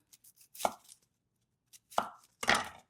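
A knife slicing an onion on a cutting board, several separate crisp cuts with short pauses between them, close and clear with no talking.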